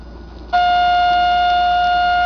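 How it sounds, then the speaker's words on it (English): Steady electronic whine from a solid-state Imhotep radiant oscillator picked up on an AM radio tuned between stations, switching on abruptly after faint hiss and then holding a loud, unwavering pure tone. "That's the sound of the oscillator that's coming through the radio right here."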